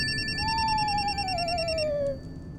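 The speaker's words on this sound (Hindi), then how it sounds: "फोन मेरा बज रहा है" A mobile phone rings in a comedy horror TV episode: a synthetic ringtone with a steady repeating electronic pattern and a sliding tone that lasts about two seconds, then cuts off, loud and close over low background noise.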